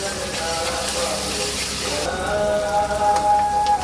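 Sliced onions with a little salt frying in a pan of oil, a steady hiss and crackle that runs throughout at moderate loudness, with a faint tone in the background.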